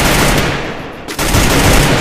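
Rapid automatic gunfire from a solo shooter video game match fills the clip, loud and dense, with a brief dip near the middle before the bursts resume at full strength.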